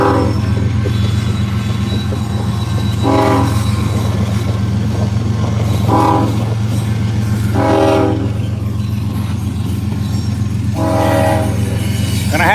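A passing train rumbles close and loud, its horn sounding in several long bursts over a constant low engine drone and rolling wheels, with no talk.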